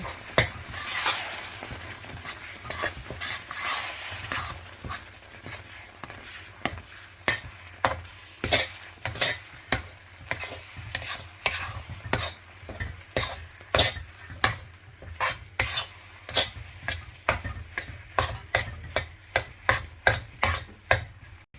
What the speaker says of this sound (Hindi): अब हमने तेज़ तेज़ ऐसे चमचा चलाना है ताकि सारी चीज़ें आपस में मिक्स हो जाएं